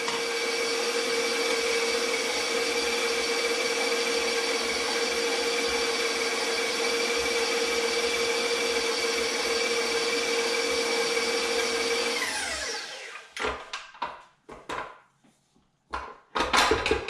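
An electric mixer churns tamale dough, a steady loud motor whine that runs on for about twelve seconds, then winds down into scattered knocks and scraping.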